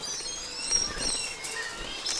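Streaked shearwater calls echo faintly over a hushed pre-dawn island background, several thin wavering cries overlapping at a distance.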